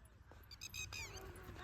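A dog whimpers and yips in short high cries at a farm, mixed with outdoor noise and voices talking nearby.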